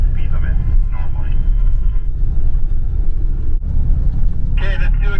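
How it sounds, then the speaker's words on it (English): A Super C RV rolls at speed across the dusty Burning Man playa with a steady low engine and road rumble throughout, while people talk over it. "this is really kind of cool, being able to drive across the playa at speed"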